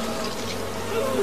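A swarm of bees buzzes in the film Candyman, a continuous close, loud droning hum filling the short stretch without talk.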